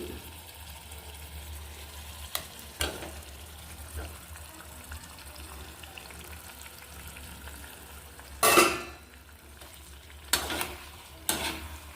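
Onion paste fries in plenty of oil while being stirred, ahead of cooking black tiger prawns. A steady low sizzle runs throughout, broken by a few sharp clatters of the spoon against the pan, the loudest near the end.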